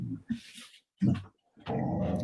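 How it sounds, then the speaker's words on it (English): A dog growls at passersby in a residential neighborhood in three close, throaty bursts separated by brief silences, with the last growl the longest and steadiest. "Sorry about Jaxie growling, everybody."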